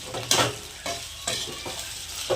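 Sabudana khichdi being stirred in a pan, with several rhythmic scraping strokes of a spoon over a steady frying sizzle, close by and with no talking.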